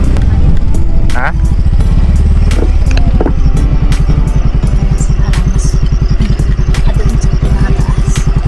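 A motorcycle engine runs steadily up close, its low mid-range throb continuous throughout, parking at a viewpoint called Badass Peak; bits of clatter and voices sound over it.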